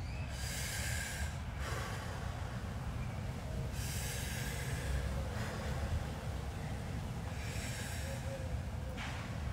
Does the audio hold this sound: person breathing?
yes